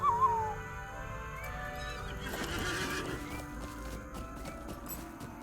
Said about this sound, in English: Let's mount up on my horse and let's see what I can find out.